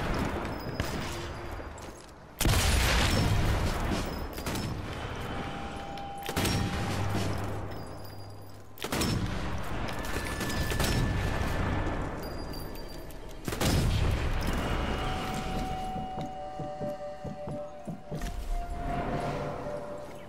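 Repeated bursts of heavy gunfire and explosive booms from the World War II shooter Sniper Elite 4 come in loud clusters separated by short lulls, with dense battle noise throughout and no talk.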